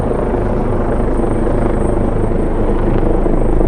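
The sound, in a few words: helicopter flying directly overhead downtown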